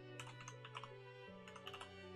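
Someone types a command on a computer keyboard: a quick run of soft, close key clicks over about two seconds, with a low steady hum beneath.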